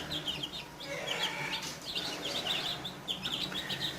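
Light Brahma hens cluck softly among a brood of chicks in a coop, with high peeping chirps scattered throughout over a steady, close background.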